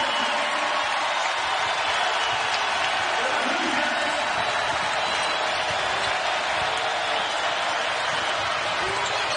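Crowd noise fills the arena at a women's college basketball game, No. 2 Indiana at No. 6 Iowa, as a loud, steady roar that holds through the whole stretch, with a commentator talking over it.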